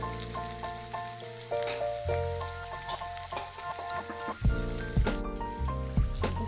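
Bitter gourd slices fry in a pan with a soft, steady sizzle, while a tonal music bed plays prominently over it and a few louder knocks come near the end.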